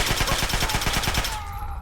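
Rapid gunfire in Fallout 3 strikes the player in a steady, dense burst of evenly spaced shots that runs loud for over a second, then cuts off, leaving a faint tonal hum.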